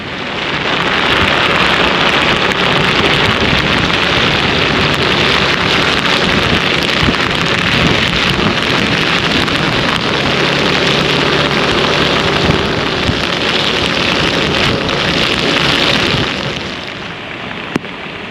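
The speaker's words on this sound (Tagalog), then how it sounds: "basang-basa na kami sa ulan" Heavy rain from Typhoon Kristine pours steadily with gusting wind buffeting the microphone in San Simon, Pampanga, Philippines, a loud continuous roar with no voices.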